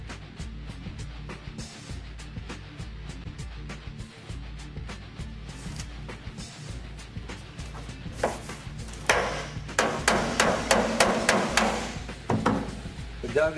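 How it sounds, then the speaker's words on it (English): Metal taps and clinks at first, then a run of sharp, ringing hammer-and-dolly blows straightening car body sheet metal in quick succession. "using a hammer and dolly"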